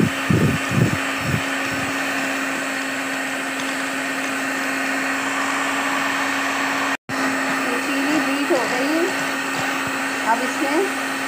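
An electric beater whirs through a sugar mixture for mini cake, a steady, close motor drone with a brief cut-out partway through and a few soft knocks at the start.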